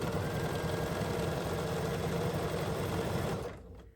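Sewing machine stitching fabric in a steady, close, continuous mechanical whir, then slowing and stopping near the end, with no speech.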